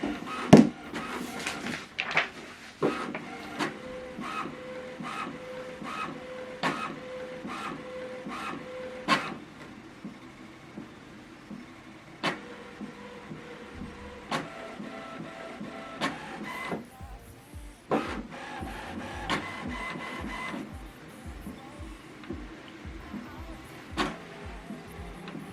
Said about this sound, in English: So what it's doing now is automatically printing the alignment head.